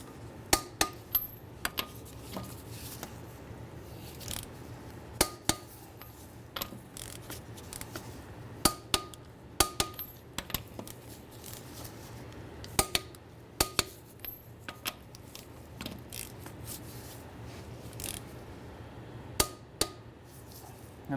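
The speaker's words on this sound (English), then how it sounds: "we're going to torque our lug nuts down to 80 foot-pounds" A torque wrench tightens lug nuts on a Honda Element wheel, a string of faint scattered metallic clicks and taps over a quiet low hum, repeating every few seconds.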